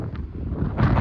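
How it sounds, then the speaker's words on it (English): Wind buffets the microphone at a blustery Cornish coastal spot, a low rumbling roar that swells louder toward the end, with no talk. "I'm gonna have to speak up a bit because it's windy, unsurprisingly, because it's Cornwall"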